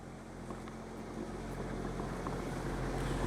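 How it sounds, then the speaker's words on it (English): A 7 kW Powertech diesel generator aboard a 2000 Newmar Mountain Aire Class A motorhome runs with a steady, low, droning engine rumble, constant and even throughout, with no talking. "7 kW diesel Powertech generator. Running right now, powering everything up inside with no problem"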